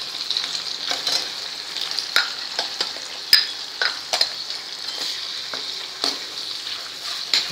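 Pav bhaji spices with turmeric, asafoetida, black masala, coriander and cumin powder frying in a pan while stirred, a bright steady sizzle punctuated by repeated spatula scrapes and clicks, close and moderately loud.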